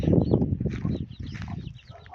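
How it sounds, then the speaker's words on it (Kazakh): Hens cluck in a farmyard where chicks also roam, giving a steady, fairly close run of low, throaty clucks across the whole stretch. "Әне тауықтар"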